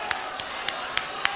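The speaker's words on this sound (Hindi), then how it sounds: "तालियां बजाइए जोरदार" A Biswan International Mushaira audience in Sitapur claps: five sharp, evenly spaced claps, moderately close, over a steady background murmur of the gathered crowd.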